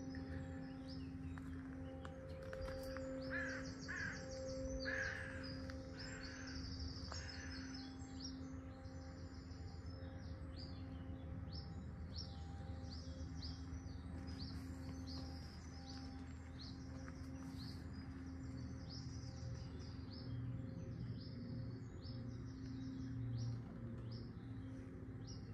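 Faint, repeated bird chirps sound at a distance in woods on the Isle of Wight in April, over a quiet, steady outdoor background, scattered irregularly throughout.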